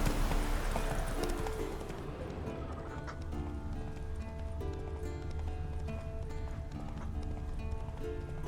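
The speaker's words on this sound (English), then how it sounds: "That's his horse. What's its name? Scorpion? Beautiful animal." Hooves of Eskel's horse Scorpion clip-clop in The Witcher game at Kaer Morhen, a steady mid-distance plodding under a dense bed of ambient music, with no voices.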